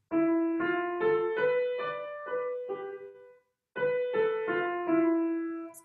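A slow piano melody of struck notes rising and falling through a Japanese scale, with a brief pause before the phrase repeats.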